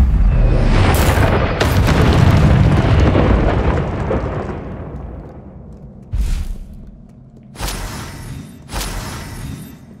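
Confringo blasting spell from the Hogwarts Legacy video game: a loud booming explosion with a rumbling roar that fades over several seconds, followed by three sharper, shorter blasts, no speech.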